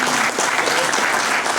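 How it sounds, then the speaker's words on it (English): Audience applause at an SPE Distinguished Lecturer event: a short, steady burst of dense clapping from a roomful of people, close and fairly loud with no voices over it. "Please give a round of applause to the company who paid for all this thing."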